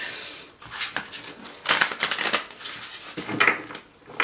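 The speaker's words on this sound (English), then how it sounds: "I will just shuffle these for you guys, and they are a little bit large, so they take a bit of shuffling" Large tarot cards being shuffled by hand, a run of papery riffles and soft slaps in bursts with brief pauses, close and fairly quiet with no talking.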